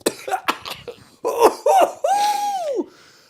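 A few sharp, harsh coughs close by, followed by a strained throat-clearing rasp that trails off.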